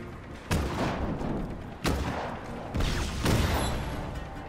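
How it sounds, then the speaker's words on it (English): Three heavy explosions in Just Cause 3 boom one after another, each a sharp blast fading into rumbling debris. "Explosions! But I keep exploding myself at the process."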